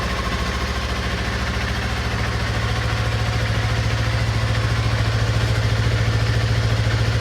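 A 2017 Honda Grom motorcycle idles steadily up close, a loud, even low thumping with a light mechanical clatter over it, no talking.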